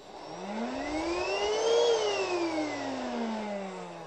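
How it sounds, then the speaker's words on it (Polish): A Hoover Rhapsody RA22HCG cordless upright vacuum cleaner spinning up and back down, its whirring motor pitch rising then falling steadily, loud and close with no talk. "Warto włączyć sobie na chwilę wtedy odkurzacz,"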